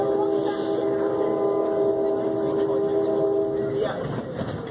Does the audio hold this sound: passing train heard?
yes